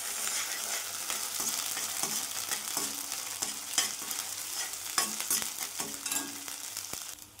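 Onion, tomato, garlic, ginger and green chilli masala sautéed in oil sizzles steadily in a pan, with spoon scrapes and stirring clicks recurring throughout, near and moderately loud.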